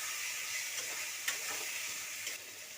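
Fried potatoes stir-fried in oily spice masala, a faint, even sizzle with light scraping from a spatula and a couple of small taps against the pan.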